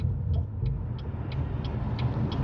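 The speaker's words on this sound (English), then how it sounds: "Oh my God, these semi trucks, bro." A semi truck rumbles steadily close by, a heavy low engine drone with faint periodic high ticks, no voices.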